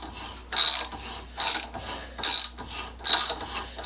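Cast iron being machined into a pivot bushing, giving four separate bursts of harsh, gritty cutting noise with short pauses between them, close and fairly quiet.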